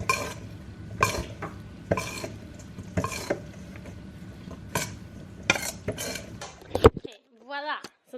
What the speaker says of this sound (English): Okay, and I'm gonna mix.